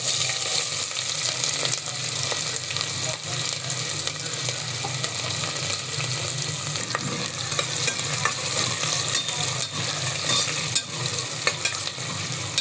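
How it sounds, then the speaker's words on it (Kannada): Chopped onions frying in hot oil at the start of a quick chicken fry, a dense, even sizzle with constant crackling that stays loud and steady throughout, with no voices over it. "ಈಗ ಎಣ್ಣೆ ಇಟ್ಟಿದ್ದೀನಿ. ಅದರಲ್ಲಿ ಹೆಚ್ಚಿದ ಈರುಳ್ಳಿ ಹಾಕ್ತಾಯಿದ್ದೀನಿ."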